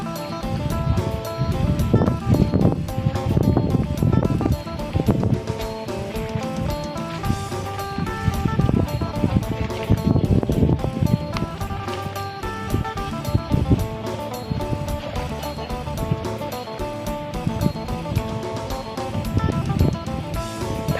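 Fast-flowing flood water rushing through a stream, a continuous loud broadband roar and churn with no pauses, close to the listener.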